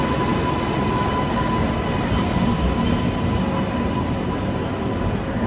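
The Mumbai–Howrah Duronto Express, a push-pull train with two engines, runs at speed, heard from inside the first AC coach as a loud steady rumble and rattle of wheels on track.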